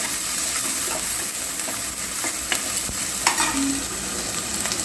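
Green chillies fry lightly in a pan for natukodi pulusu, a steady soft sizzle with occasional stirring clicks and scrapes, close and continuous.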